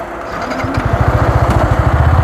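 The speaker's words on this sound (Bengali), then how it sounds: "আমি বাইক আবার স্টার্ট করব" A motorcycle engine starts up nearby, catching after a short moment and settling into a fast, even putter of firing pulses that grows steady and loud.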